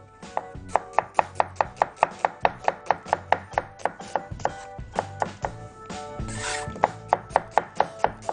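A knife cuts an onion into julienne strips on a board with a fast, steady run of sharp taps, close and clear, pausing briefly before the rhythm resumes.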